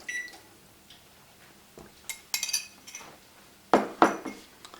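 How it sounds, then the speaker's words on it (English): A milk and flour mixture being stirred into sausage and potatoes in a pot, heard as scattered clinks and scrapes of a utensil against the metal, with a few sharper knocks near the end. "So let me give it a good stir"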